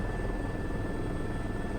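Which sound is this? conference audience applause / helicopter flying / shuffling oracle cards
helicopter flying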